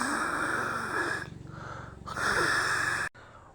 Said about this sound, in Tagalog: At sino yung naririnig kong humihilik?